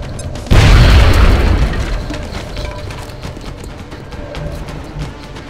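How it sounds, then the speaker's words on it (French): A grenade explodes in the video game XCOM: Enemy Within: a sudden loud, deep boom breaks in, then a long rumbling and debris-filled tail slowly fades. "Je balance la grenade."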